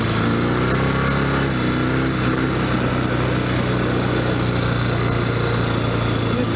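A 1964 Royal Enfield Interceptor 750 motorcycle ridden with its clutch slipping, a loud, steady engine drone with a brief rising-and-falling pitch early on, then holding a constant buzzing note.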